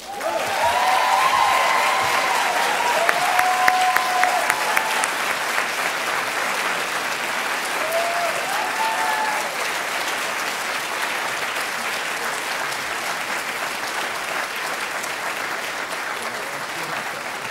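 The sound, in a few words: audience applause and cheering at an annual meeting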